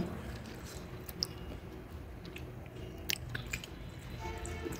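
Someone biting and chewing freshly made hot aluni, with soft crunches and mouth sounds close up over a steady room hum and a few faint clicks.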